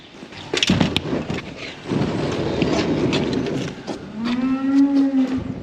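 Loud, drawn-out cow moo near the end, preceded by shuffling, clattering movement and a few knocks.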